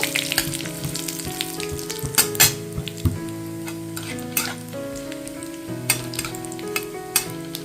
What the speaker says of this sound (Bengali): এবারে এর মধ্যে দিয়ে দিচ্ছি একটা শুকনো লঙ্কা একটা তেজপাতা আর হাফ চামচ দিয়ে দিলাম গোটা জিরে এটা এখন হালকা আমি ফ্রাই করে নেব